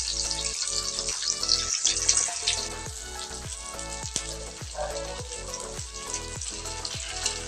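Kangkong (water spinach) fries in a pan until golden brown, giving a steady loud sizzle throughout, with repeated soft stirring or tapping sounds at a regular pace.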